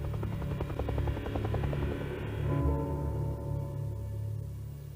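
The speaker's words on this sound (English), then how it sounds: "They whisked Milosevic away by helicopter." A helicopter flying, its rotor throbbing in a fast, regular pulse with a steady engine hum beneath, loud and close throughout, changing pitch slightly partway through.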